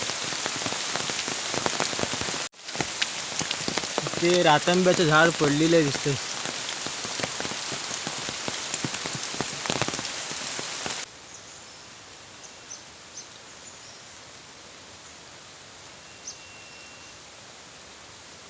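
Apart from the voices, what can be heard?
heavy rain falling in a forest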